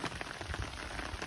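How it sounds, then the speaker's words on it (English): Heavy rain pours steadily onto a waterlogged English cottage garden in December, its lawn and borders underwater, giving a dense, continuous hiss of drops with no pauses. "I'm a little bit concerned about how do we come back from this amount of rain"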